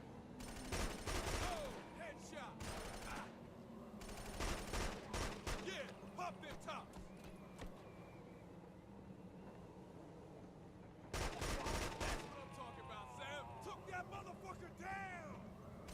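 Sustained gunfire in the video game Killzone 2, bursts of automatic fire and rattling shots recurring through a steady battle din, with talking voices heard throughout.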